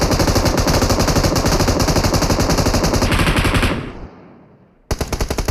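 Rapid automatic gunfire in the battle royale game PUBG Mobile, a loud, dense stream of shots that cuts off and fades into a brief lull before another close burst starts abruptly.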